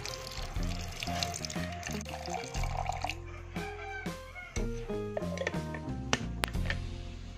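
Water pours and trickles into a blender container nearby, with faint background music underneath.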